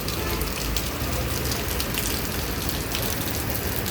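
Rain falls steadily near a busy bypass road beside a motorbike dealership, a dense, uniform hiss that stays loud and constant throughout, with no clear speech.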